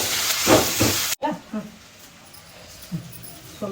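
Whole spices such as cinnamon, cloves, cardamom and poppy seeds fry in a pan, giving a loud close hiss that cuts off abruptly and then continues as a quieter sizzle with voices talking over it.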